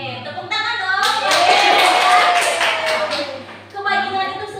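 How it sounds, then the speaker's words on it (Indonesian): A group claps hands in a classroom-style session, a short burst of rhythmic clapping in the middle, with voices before and after. "Oke, tepuk tangan dong"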